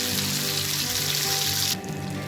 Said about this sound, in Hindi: अब मैं फ्राई कर रही हूँ कबाब